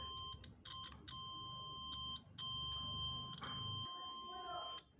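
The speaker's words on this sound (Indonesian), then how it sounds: "Kita menggunakan buzzer ya. Ini menggunakan buzzer." A multimeter's continuity buzzer sounds a steady high beep while testing inverter fuses, starting and stopping in short and longer tones, faint, with a low hum beneath.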